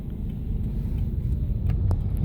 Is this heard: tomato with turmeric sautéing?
no